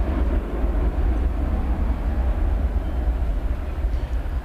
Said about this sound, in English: We've got American 1133 here going out to Phoenix and Airbus A321.